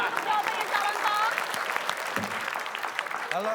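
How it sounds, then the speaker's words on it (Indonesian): Studio audience applause breaks out for a contestant's answer on an Indonesian TV comedy show, a steady wash of clapping with whoops and a voice cutting in near the end. "Tepuk tangan dulu untuk jawabannya calon Tom"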